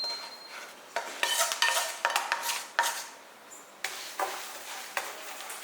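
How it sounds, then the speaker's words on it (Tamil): Roasted black urad dal being scraped and tipped from a pan into another vessel, with intermittent metallic scrapes and rattling grain pours in irregular bursts, moderately quiet and close, no voices. "இதை எடுத்து ஒரு பாத்திரத்தில் மாற்றிக்கலாம்."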